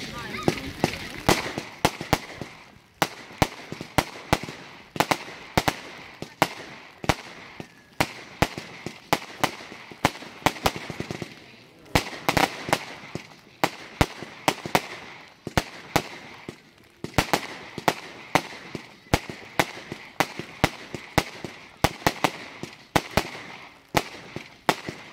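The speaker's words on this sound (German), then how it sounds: "Eine rasant abgefolgene Multicolor Blinksternbatterie mit Bouquets in Fächerform." Multicolor strobe-star firework battery firing fan-shaped bouquets at a musical fireworks display in Stein near Nuremberg, a rapid, dense string of crackling bursts and pops, loud and near, continuing without pause for the whole stretch.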